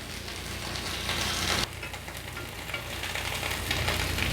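Spinach sizzles on a sandwich grill in a continuous, fairly loud crackling hiss that breaks briefly midway and then resumes.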